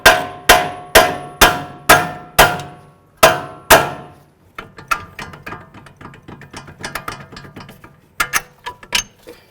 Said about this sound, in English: We'll remove our 21 millimeter headed nuts.